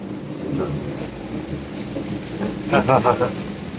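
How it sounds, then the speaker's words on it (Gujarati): Steady morning rain pours down with a low rumble of thunder beneath it, and a voice speaks briefly near the end. "સવાર વરસાદ પડી રહ્યો છે"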